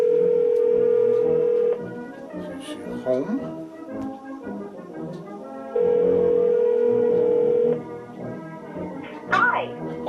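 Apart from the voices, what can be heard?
telephone dial tone while placing a call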